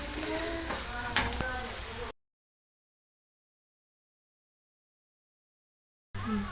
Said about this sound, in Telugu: మిరియాల పొడి వేసుకుని ఇలా కలుపుకోవాలన్నమాట కలుపుతూ ఉండాలి